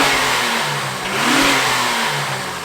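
Honda Accord V6 fitted with an RV6 long tube J-pipe revs up and settles, a steady mid-pitched engine drone that swells near the middle, close and loud with no talking.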